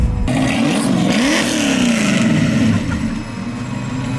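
A supercharged 1965 Ford Mustang engine revs hard up close, its pitch sweeping up and down through several throttle blips over a rough, loud drone before cutting off abruptly.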